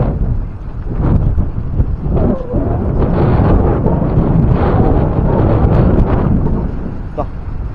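Strong northeast monsoon wind roars steadily and loudly across the microphone, buffeting it without letup, with faint voices underneath.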